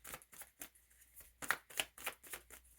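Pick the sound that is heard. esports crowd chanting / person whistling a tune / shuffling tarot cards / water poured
shuffling tarot cards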